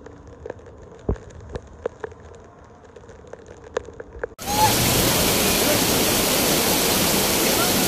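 Heavy rain and rushing floodwater in Tijuana, starting with faint scattered taps and then abruptly becoming a loud, dense, continuous roar of water that fills the rest of the clip.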